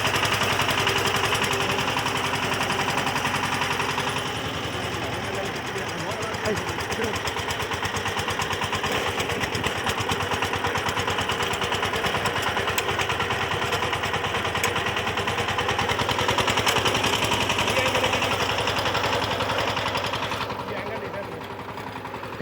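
A VST Shakti 130 DI power tiller's diesel engine runs close by with a rapid, rattling knock that picks up speed partway through, loud and continuous, with someone talking over it at times.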